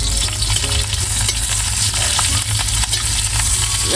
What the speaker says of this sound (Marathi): आणि आता या मिरच्या ज्या आहेत आपण टाकूया यामध्ये